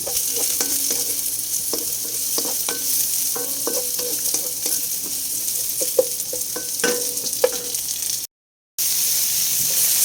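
Garlic and onion sauté in a pan for a Filipino native chicken dish, with a steady background sizzle. A utensil scrapes and knocks against the pan in irregular strokes, and there is a short silent break near the end.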